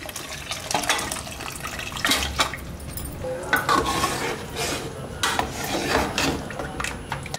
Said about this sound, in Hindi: अब जो हमने गोश्त को बॉईल करके रखा है, ये डाल देते हैं स्टॉक